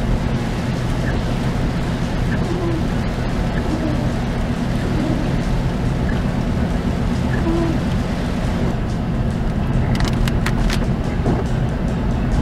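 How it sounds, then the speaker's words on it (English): Rain drums steadily on a car driving around St. Simons Island, Georgia, mixed with a constant low road and engine rumble, with a few sharper splashes or thumps near the end; no one speaks. "the rain is picking back up again"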